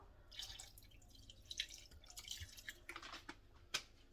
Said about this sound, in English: I'm gonna add some vinegar.